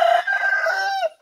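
A rooster crows once, loud and close, in a single drawn-out call of about a second that trails off into quiet.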